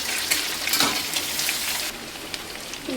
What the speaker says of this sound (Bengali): শুটকি মাছটা দিয়ে দিলাম, ভাজা ভাজা হবে